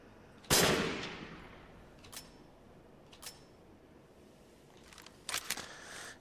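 Gunshots ring out at a shooting target in the VR video game Resident Evil Village: one loud, sharp shot with a decaying tail, then a few fainter clicks and a quick pair of shots near the end.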